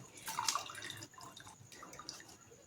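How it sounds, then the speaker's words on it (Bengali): Watermelon juice drips and trickles through a strainer as the fruit is squeezed by hand, with soft wet splashes and drips, faint and close. "এইবার আমি তরমুজটা রস করে নিচ্ছি এইভাবে হাত দিয়ে চিপে চিপে একটু চিপলেই দেখবেন রস বেরিয়ে যাবে ছাঁকনির উপর রেখে রসটা করে নিচ্ছি"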